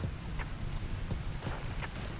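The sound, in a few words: rain in the video game Rimworld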